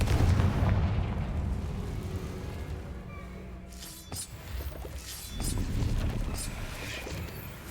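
Confringo spell blasts explode in a Harry Potter video game, rumbling booming bursts with a heavy low roar that fades briefly and then swells again, loud and close.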